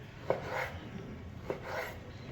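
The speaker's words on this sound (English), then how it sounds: "Now I'm going to cut them across like this into bite-sized pieces." Two crisp knife chops about a second apart as meat is cut across into bite-sized pieces on a kitchen board, close and moderately loud, with no one speaking.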